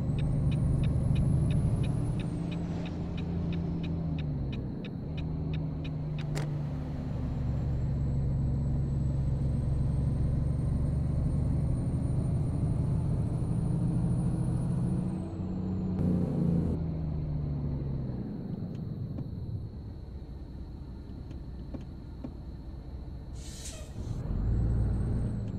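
A heavy truck in American Truck Simulator drives along with a steady, loud engine rumble, shifting pitch now and then, and near the end a short hiss of air brakes cuts through.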